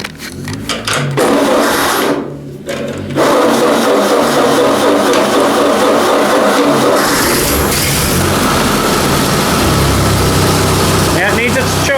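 A small engine cranks, sputters and then starts, settling into a loud, steady running clatter close by, with people talking over it.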